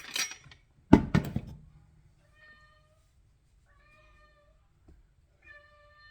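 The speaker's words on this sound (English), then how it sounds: "As you can hear, my little guy, my little kitty, is entertaining." A couple of loud thumps, then a cat meows several times, faint and somewhat distant, with quiet gaps between calls.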